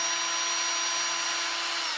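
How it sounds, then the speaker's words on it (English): A power drill runs continuously at close range, whining steadily as it backs screws out of a cheap light fixture on a garage ceiling, with no talk. "This is where a power drill"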